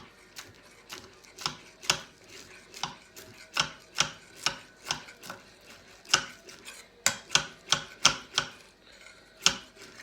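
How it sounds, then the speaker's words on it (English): Fresh garden chives are finely chopped with a knife on a board, producing a quick series of sharp, close taps in an uneven rhythm, about twenty strikes with brief pauses between bursts. "next up is our chives. So I'm going to finely chop these."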